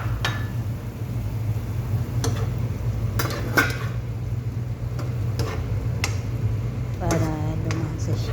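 A utensil stirs cooked onions in a pan after seasoning is added, giving scattered clicks and scrapes over a steady low hum, with a brief voice near the end.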